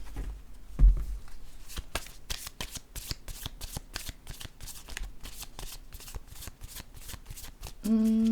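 Tarot cards are shuffled by hand in a rapid, steady riffle of crisp flicks close up, ending with a brief soft hum.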